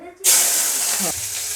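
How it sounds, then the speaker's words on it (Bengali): Flat beans dropped into hot mustard oil burst into a loud, bright hiss that starts abruptly and holds steady as a close, continuous sizzle. "এখন আমি সিমটাকে ভেজে নেব।"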